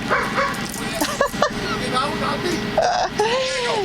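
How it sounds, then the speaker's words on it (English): A tiny black and brown dog yips and barks in a few short bursts outdoors near a person, with someone talking throughout. "there's a tiny black and brown dog running around"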